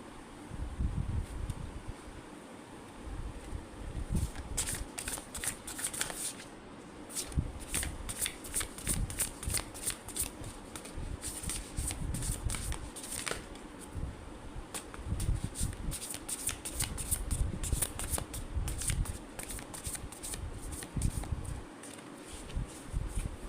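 A tarot card deck being shuffled up close, with continuous crisp riffling and flicking of cards in rapid bursts, brief pauses between runs and no talking.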